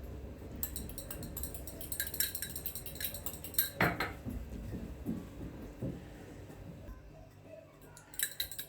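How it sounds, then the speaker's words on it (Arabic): A fork stirs eggs into milk in a bowl, giving quick, rhythmic metal-on-dish clinks and scrapes that rise and fall, close and fairly soft, with no talking. "بقلبها بالشوكه اهو لغايه لما البيض كله ما يبقاش باين في اللبن"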